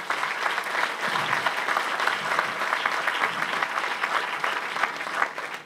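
Steady, enthusiastic applause from a sizable conference audience, dense clapping sustained throughout without any talking.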